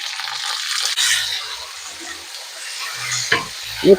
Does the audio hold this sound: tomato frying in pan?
yes